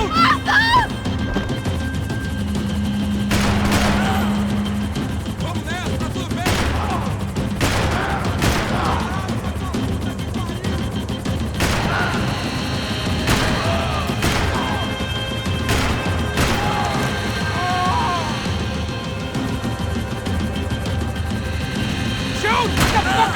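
Repeated gunshots and heavy bursts of gunfire in the Max Payne 3 video game, sharp loud cracks and booms recurring over a constant engine-like rumble during a chase, with occasional shouted voices.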